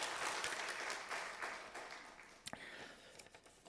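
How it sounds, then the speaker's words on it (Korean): A Korean church congregation at a Sunday service claps in welcome for newcomers, a soft, roomy patter of many hands that gradually thins and tapers off, with a few sharper isolated claps near the end. "환영의 박수로 축하하겠습니다"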